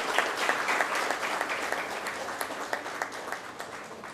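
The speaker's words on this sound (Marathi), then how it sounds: "जोरदार टाळ्यांचा कडकडाट" An audience at a school event for Class 10 students bursts into loud, sustained applause, dense clapping filling the room and gradually thinning toward the end.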